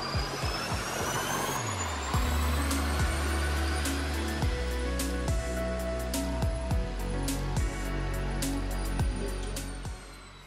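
A Mercedes E350 AMG on a dyno for its final pull, the engine note climbing steadily in pitch as it revs up, loud and continuous with a rising whine, then tapering off toward the end.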